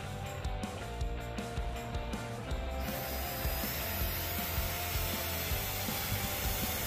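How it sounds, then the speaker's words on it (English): A power drill spins a wire wheel against wood, a steady abrasive whirring and scrubbing that grows rougher and denser partway through. "I used a drill and a wire wheel to give the wood a distressed look."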